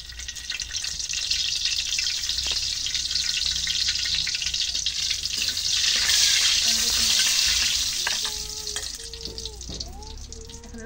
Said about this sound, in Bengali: এখন তেলের মধ্যে মরিচ ভেজে নিই।